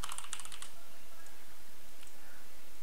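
A computer keyboard gives a quick run of light, close key clicks, then a few scattered taps over a quiet background.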